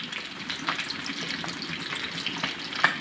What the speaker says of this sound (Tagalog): Piniprito ko lang guys.